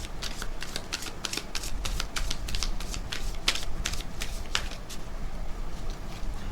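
Tarot cards are handled and shuffled close up, a rapid run of crisp flicking riffles that continues steadily throughout, with no speech.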